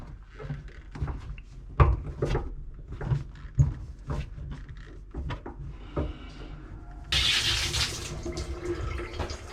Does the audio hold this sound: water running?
yes